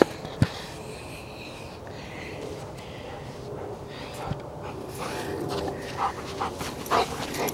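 A dog wrestling with a person makes low, restless growls and huffs close to the microphone, with scuffling, panting and occasional sharp knocks throughout.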